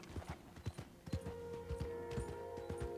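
Horse hooves clip-clop steadily at a walking pace in Red Dead Redemption II, with a faint low tone running beneath the even, close hoofbeats.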